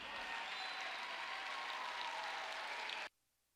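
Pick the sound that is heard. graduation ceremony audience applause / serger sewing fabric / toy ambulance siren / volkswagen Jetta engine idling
graduation ceremony audience applause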